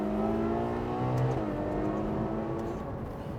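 A Ferrari Lusso V12 engine revs hard, a loud, smooth, high-pitched howl rising and shifting in pitch, heard from inside the comfortable cabin and sustained for a few seconds.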